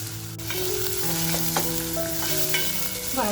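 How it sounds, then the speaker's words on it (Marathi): Chopped onion tossed into hot oil with garlic on a full flame for chicken dum masala, frying in a loud, continuous sizzle with tonal clinks and scrapes from stirring throughout. "जो कांदा कापून घेतलाय तो कांदा टाकते"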